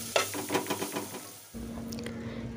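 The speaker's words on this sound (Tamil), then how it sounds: "அதையும் வந்து இதில் சேர்த்து இதை நல்லா வந்து கொஞ்சம் நேரம் வந்து வதக்கிக்கலாம்." Pounded black pepper and cumin go into a pan with onions to sauté: first a run of quick stirring scrapes, then a steady close sizzle takes over, no voices.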